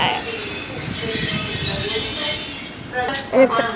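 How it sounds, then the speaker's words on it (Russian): Electric commuter train pulling away from a station, loud wheel squeal and rail rumble heard close by, ending with a short electronic tone. "Электропоезд отправляется."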